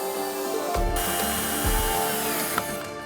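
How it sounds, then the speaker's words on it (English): A power drill drives screws through a handmade wooden pavise shield, giving two short bursts of low grinding whir over a steady workshop hum with a small click between them. "we're gonna drill some screws through there now"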